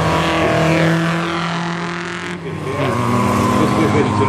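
A small classic Triumph Spitfire with a 1.3-litre four-cylinder engine runs loud and close, a steady buzzing drone that dips briefly and then rises again as the revs climb, with someone speaking over it.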